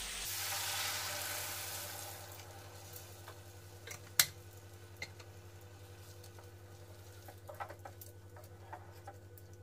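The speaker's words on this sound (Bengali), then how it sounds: "এবার জল দিয়ে দিচ্ছি।" Water splashes into a hot wok of fried rice with a loud hiss that fades into steady bubbling and scattered crackles, with no talking.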